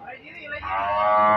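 A Limousin cow gives a single low, drawn-out moo that swells and holds, close by, at a cattle market.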